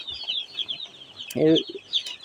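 Broiler chickens cluck and chirp faintly in a steady background, with one louder, nearer cluck in the middle of the short stretch.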